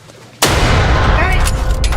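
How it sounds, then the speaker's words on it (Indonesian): A sudden loud warning gunshot breaks a quiet background near an elephant, followed by a long rolling roar and rumble that stays heavy to the end. "Setelah tembakan peringatan, hewan tersebut menolak untuk meninggalkan tempat kejadian"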